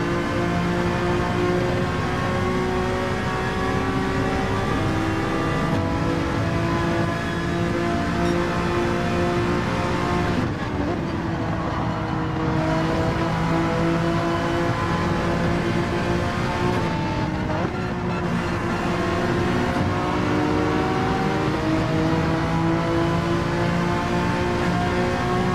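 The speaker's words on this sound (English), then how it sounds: "Get on the curb and accelerate." Race car engine in Gran Turismo 7 at Watkins Glen, a loud continuous whine with harmonic bands that rise and fall as it accelerates, with brief dips around shifts or braking.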